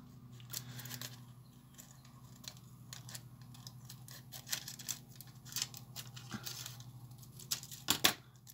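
Scissors snip around a homemade paper sticker in quiet, irregular cuts, soft close-up clicks and rustles of paper spaced through the quiet.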